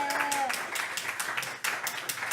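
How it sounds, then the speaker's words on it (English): An audience gives a hand for a podcast producer named Alex at a live pod crawl show, a steady patter of clapping running across the whole stretch at moderate loudness, with some murmuring from the crowd underneath. "They all clapped"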